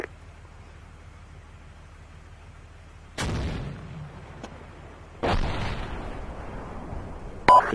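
Gunfire in a castle defense video game: three loud, sharp blasts, each with a booming tail, spaced a couple of seconds apart over a quiet background.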